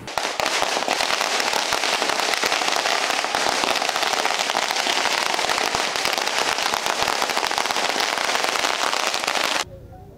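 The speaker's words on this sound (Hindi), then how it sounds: "आतिशबाजी कर जश्न मनाया" Fireworks and firecrackers burst in a dense, continuous crackling barrage at a street celebration in Bhopal, loud and unbroken for most of the stretch before cutting off abruptly near the end.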